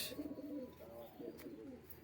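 A single black-necked female pigeon gives low, repeated cooing phrases, soft and close amid steady background noise.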